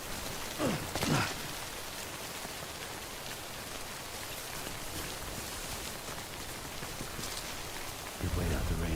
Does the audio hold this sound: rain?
yes